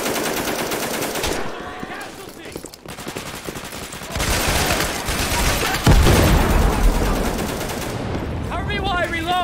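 Gunfire in the tactical shooter game Insurgency, with loud sustained machine-gun bursts and scattered single shots during close room-to-room fighting, nearly continuous and dense, while players shout over it.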